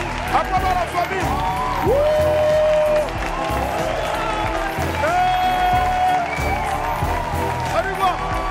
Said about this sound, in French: Applaudissez la famille.